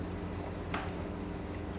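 A single short scratch of writing on a board during an English grammar lesson, sitting over a steady low background hum with no talking.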